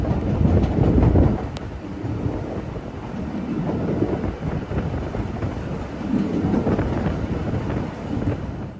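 The Ffestiniog Railway gravity train rolls down the spiral, a continuous low rumble of wheels on rail with wind buffeting the microphone, loudest at the start and swelling again later.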